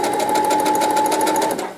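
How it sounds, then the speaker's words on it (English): Sewing machine back stitching an infinity scarf, a rapid, steady mechanical whir with a high whine and evenly spaced needle clicks, close and loud for under two seconds before slowing to a stop. "Then I'm going to back stitch a little bit and then go forward."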